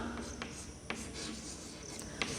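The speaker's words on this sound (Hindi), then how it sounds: "मैं लिखती हूँ यहाँ" Handwriting, with a pen scratching and tapping across a writing surface while letters are formed into words in a Hindi lesson, close and quiet in short strokes.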